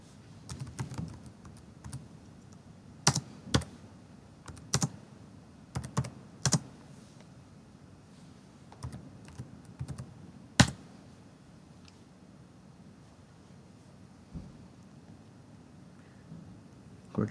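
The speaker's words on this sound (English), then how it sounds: "So I'm gonna go ahead and type that out." A computer keyboard types out a netstat command, scattered sharp key clicks in small bursts and single taps with pauses between, close but fairly quiet, no talk.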